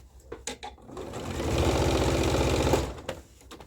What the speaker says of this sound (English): then you top stitch it. So that's what I'm doing right now.